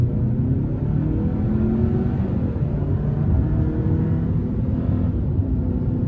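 A 2024 Hyundai Santa Cruz XRT with the 2.5 turbo engine accelerates hard onto an interstate, its engine holding a loud, steady, deep roar under road and wind rumble from start to finish, with no talking.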